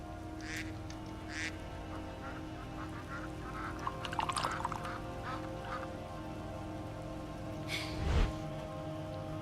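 Ducks quack in scattered bursts beside a lake in the Skyrim video game, with calls near and far over a steady ambient bed and a louder honk-like burst near the end.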